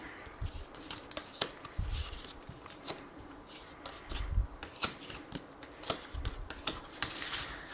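Tarot cards shuffled and drawn from the deck, a run of crisp, close riffling snaps and soft slides with a few thumps, no voices.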